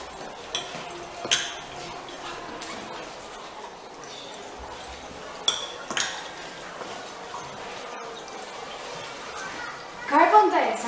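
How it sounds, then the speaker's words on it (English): Dry ice dropped into a beaker during a school lab demonstration: a few light glassy clinks, then a short burst of bubbling near the end, with children's voices murmuring throughout. "now we are going to add dry ice to this beaker"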